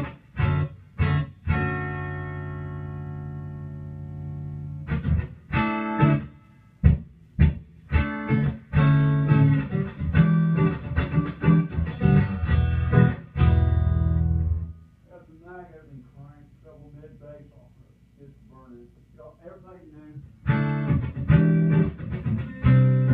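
An electric guitar plays through a modded HRD amplifier fitted with a blackface reverb tank: strummed chords and sharp stabs, then a quieter passage of picked single notes with a reverb tail, and loud chords again at the end.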